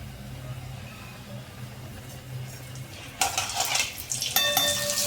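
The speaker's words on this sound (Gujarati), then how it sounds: "રાઈને સરસ ફૂટવા દેશું" Mustard seeds hitting hot sunflower oil: a quiet low hum gives way partway through to a sudden burst of sharp, crackling pops that keep spitting to the end.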